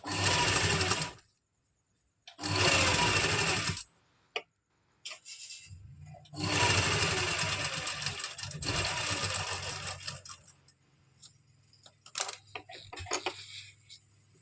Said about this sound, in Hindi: इस तरह से पूरे में यहाँ साइड साइड में सिलाई लगा देंगे इस फैब्रिक पे